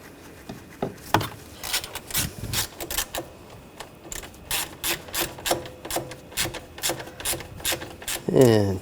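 Ratchet tightening bolts on the cooling fan assembly of a Buick Encore, a close, loud run of quick clicking bursts repeated steadily for several seconds.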